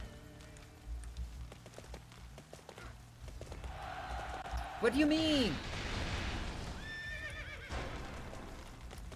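A horse whinnies loudly mid-battle in Dynasty Warriors 8 Xtreme Legends, amid galloping hoofbeats and combat clatter, with someone talking over it.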